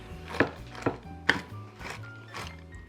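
A knife chops macadamia nuts on a chopping board in several sharp, close taps at an uneven pace, the first three strongest. Fainter knocks follow in a quiet room, with no speech.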